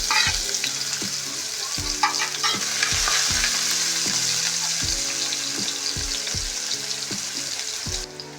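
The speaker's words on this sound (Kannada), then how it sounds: "ನಾನು ಇದಕ್ಕೆ ಸಣ್ಣದಾಗಿ ಕಟ್ ಮಾಡಿ ಇಟ್ಕೊಂಡಿರೋಂಥ ಈರುಳ್ಳಿ ಹಾಕೊಳ್ತಾ ಇದ್ದೀನಿ." Finely chopped onions frying in a pan for restaurant-style baby corn Manchurian, a bright continuous sizzle with regular knocks and scrapes of a spatula stirring against the pan, close and fairly loud, no speech.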